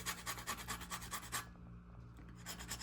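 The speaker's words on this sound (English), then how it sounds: "just zest your lemon." Lemon rasped against a handheld zester in a home kitchen, a quick run of close, rhythmic scratchy strokes for about a second and a half, followed by quieter, duller rubbing.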